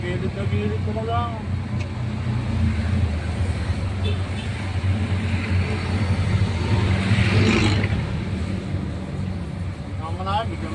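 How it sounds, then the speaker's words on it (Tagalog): Large truck passing close by on a road at dawn, a steady heavy engine rumble with rising whoosh, near and loud, under talk from people riding alongside. "bigla may dadaan sa gilid mo, laking truck po"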